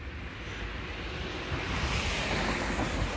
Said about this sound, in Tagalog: Malakas yung hangin ngayon.